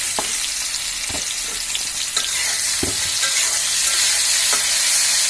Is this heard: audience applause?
no